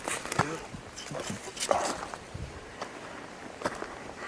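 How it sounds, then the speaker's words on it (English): Short bursts of barking from dogs somewhere off at a distance, scattered and faint, mixed with footsteps and rustling nearby on a hillside in the woods. "I hear dogs barking."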